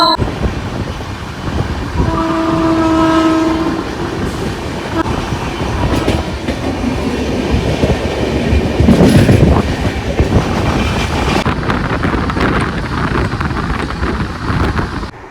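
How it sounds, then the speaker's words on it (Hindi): Janshatabdi Express 12072 from Sambhajinagar to Mumbai CSMT running at high speed, with a steady loud rumble and clatter of the coaches over the rails, a horn sounding early on, and wind buffeting throughout. "तो भाई अभी देखिए जैसे जैसे भाई ट्रेन आगे की ओर बढ़ रही है"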